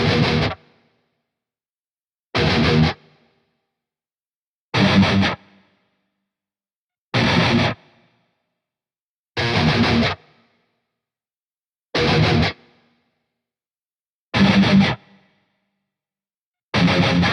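Eight short bursts of distorted electric guitar from an amp simulator, evenly spaced with silence between, each a heavy, crunchy chord that cuts off sharply.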